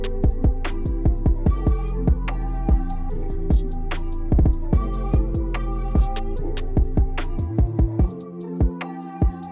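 Halftime melody loop in a beginner beat, transposed up an octave with the lower frequencies cut by EQ, plays as steady plucky notes over a punchy drum groove, loud and alone, dropping out near the end.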